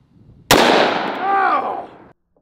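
A double barrel 1911 fires a single sharp, very loud blast of 45 ACP 230 grain +P Underwood ammo at close range. The report rings out briefly while a voice exclaims over the tail.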